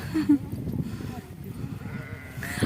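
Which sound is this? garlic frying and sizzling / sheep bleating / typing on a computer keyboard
sheep bleating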